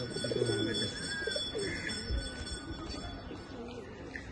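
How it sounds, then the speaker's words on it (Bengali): Pigeons on a rooftop coo softly and faintly in the background, mixed with a voice and some outdoor noise. "এই দেখো পায়রাগুলো দুটো নামলো ওখান থেকে, দেখো ওই যে ছাদের ওপর এই দুটো সেল আছে।"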